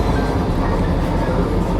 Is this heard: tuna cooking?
no